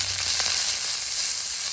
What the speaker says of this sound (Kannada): ಇನ್ನು ಸ್ವಲ್ಪ ಇದು ಫ್ರೈ ಆಗಲಿ.